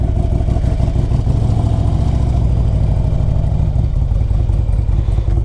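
A 2002 Harley-Davidson Electra Glide Ultra with fuel injection runs steadily nearby, its engine giving a loud, even, throbbing idle with a low pulsing rhythm and no speech.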